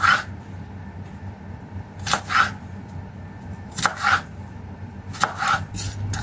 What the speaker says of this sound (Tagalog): Ngayon, hiwain natin ng mahaba na manipis yung ating carrots.